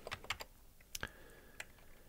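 Several quick keystrokes on a computer keyboard tap out in a short irregular burst, quiet and close, with no voices.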